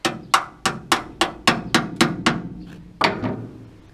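Rivet nuts get tapped into holes with a hammer: about eight sharp, close metallic taps in a quick, even rhythm, then a short pause and one final harder strike.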